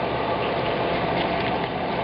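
Onion rings sizzle in butter and peanut oil in a pan, a steady, dense frying hiss that stays loud and even throughout, with no voices.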